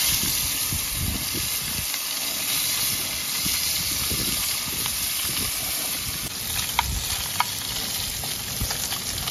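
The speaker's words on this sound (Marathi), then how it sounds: "चला सुरुवात करूया आपल्या बोई मासा फ्राय करायला" Boi fish fry in a hot pan with a steady, dense sizzle and hiss that holds throughout, broken by a few faint clicks and pops; no one speaks.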